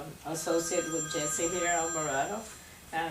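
A mobile phone rings during a public meeting, a repeating electronic tone sounding beneath a man's continuous speech throughout.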